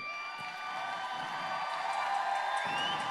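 A packed concert audience at a show in Melbourne claps and cheers in a steady, dense wash that swells slightly toward the end, with whistles and whoops over the crowd noise.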